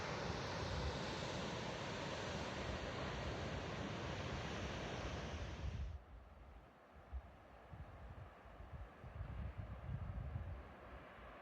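Wind roars through a deep river gorge on the Sandy River, a loud, sustained rush that drops away suddenly midway, leaving softer, fluctuating gusts.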